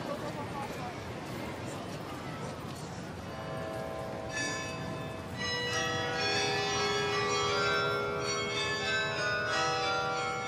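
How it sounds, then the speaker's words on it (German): Belfry carillon bells ring out a melody from a tower, the chimes swelling above a background of crowd murmur and street noise. "Wir hören hier das Glockenspiel des Belfrieds."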